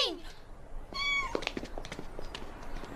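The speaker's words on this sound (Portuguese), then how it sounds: "Vem, Ringo, deixa o gatinho." A kitten meows in a high, rising-then-falling call near the start, followed by a clearer, longer mew with bright harmonics, against a busy indoor background with faint voices.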